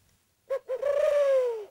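A wooden bird-call whistle imitating a turtle dove gives two short coos followed by one long, sustained, slowly falling cooing tone, clear and close with no talking.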